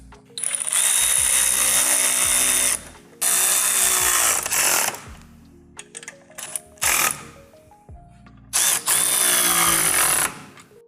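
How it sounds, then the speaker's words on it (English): A power tool drives bolts down on a sway bar on a 1979-2004 Ford Mustang, whirring in several close, loud bursts broken by short gaps and clanking of parts. "Now we can run these all the way down and torque them to spec."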